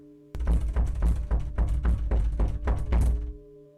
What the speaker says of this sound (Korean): 노크 소리는 문을 두들기는 소리로 바뀌었습니다